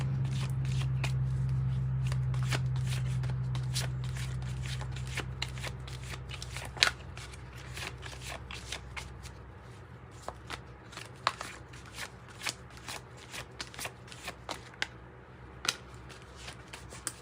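Tarot cards are shuffled steadily by hand, a long run of crisp riffling snaps and soft slides, close and fairly quiet, with no talking.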